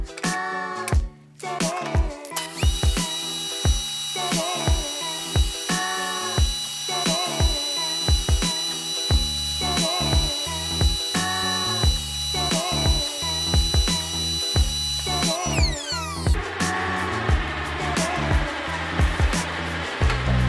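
A drill boring two through holes in a wooden jig for a table saw finger-joint setup whines at a steady high pitch, close and loud, with rhythmic knocks and clatter underneath.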